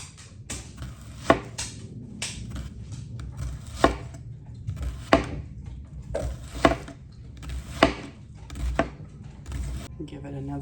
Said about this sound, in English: I'm going to slice the onion. The onion I like to be thin.